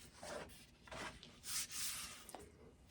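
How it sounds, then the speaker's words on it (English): Cloth wiping polyurethane finish along a wooden walking stick, giving several soft, close rubbing strokes in uneven bursts with brief pauses between them, no voices. "I'm going to put the rub on or wipe on poly"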